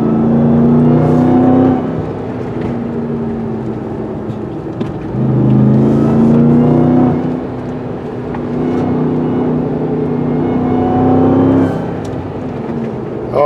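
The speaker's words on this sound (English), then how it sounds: "We're going uphill, by the way, and the massive amount of torque produced by this engine is fantastic." Supercharged Hellcat V8 of a 2021 RAM 1500 TRX pulling uphill, a loud, close, steady engine drone heard from the cabin that swells and eases through gear changes over about thirteen seconds.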